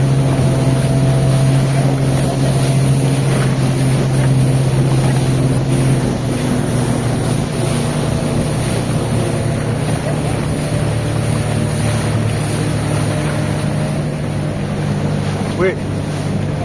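Small escort boats motor around a large wedding boat on the water near a village, a steady loud engine drone with a persistent low hum and wind buffeting, while people talk over it.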